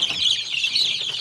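Young chicks at home, peeping in a steady run of high, thin chirps that fill the whole moment, close and fairly loud with no talk.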